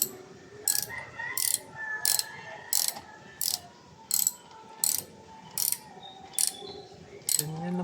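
A hand ratchet tightens the bolts on a front bumper license plate in regular clicking strokes, about a dozen evenly spaced ratcheting bursts, close and clear.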